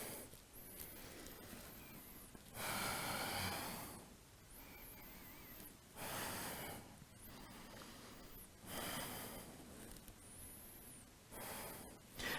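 Slow, audible breaths during a yoga forward fold in a vinyasa flow, with several soft, airy inhales and exhales spaced a few seconds apart and close to the listener.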